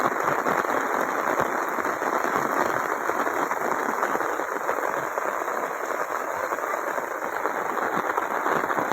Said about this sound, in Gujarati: ફરી એકવાર રાજુલામાં વરસાદ ચાલુ થઈ ગયો છે